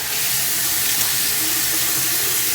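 Tap water runs steadily into a sink while a face is rinsed, a close, even rushing hiss with no voices.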